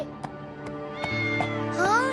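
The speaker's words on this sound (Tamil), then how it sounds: "இங்க இவ்வளவு பூனைங்க இருக்கே." Cartoon cats meow repeatedly in a cluster of short calls over a steady music bed, several rising and overlapping near the end.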